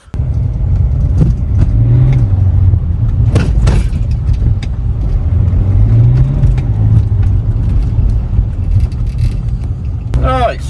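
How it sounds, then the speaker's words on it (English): A BMW 5 Series starts and pulls away, its engine rumbling close and steady with changing revs as it drives, while someone talks over it. "let's just start this thing up and we're going for a little drive"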